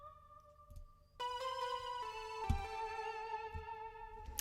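A synthesizer patch whose LFO is triggered with each note. A thin pitched tone shifts into a full, wide chord with several layered sustained pitches and soft low thumps underneath, played at moderate level and alone.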